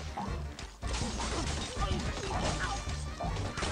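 In the Angry Birds 2 video game, a structure collapses with a clattering crash of tumbling blocks and thuds, busy and continuous, with game effects layered over it.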